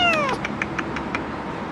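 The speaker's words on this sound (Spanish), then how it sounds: "me encontré un gatito en la calle" A kitten found on a street in Korea gives one clear, high, rising-and-falling meow close by, followed by a run of short, faint squeaks and mews against a low background hum.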